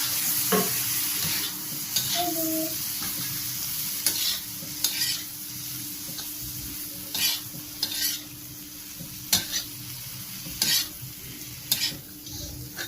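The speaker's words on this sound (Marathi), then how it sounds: "चांगल्या प्रकारे परतून घ्यायचं आहे ते." Bitter gourd chakli pieces and masala mixture being sautéed in a pan, a steady sizzle with repeated scraping stirs of a spatula spaced every second or two, close and moderately loud.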